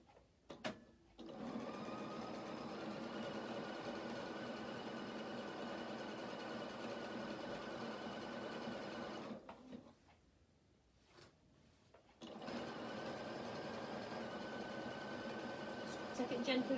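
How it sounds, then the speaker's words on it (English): Sewing machine running a row of triple stitch through a denim skirt, a steady close mechanical whir that stops briefly partway, then starts again and keeps running. "I'm now going to do another row just on the inside, again with the triple stitch."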